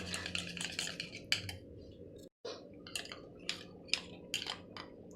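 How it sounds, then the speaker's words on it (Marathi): Reserved cream being beaten with a beater in a bowl: quick, repeated clinking and swishing strokes, close and fairly soft, with a brief break partway through and no voices. "ती आपल्याला छान अशी बीटरच्या सहाय्याने मस्त बीट करून घ्यायची आहे"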